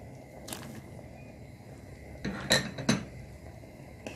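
A utensil scrapes and clinks against a pot while rice pudding with cream is stirred, giving a few brief, quiet metallic knocks and scrapes over a soft background.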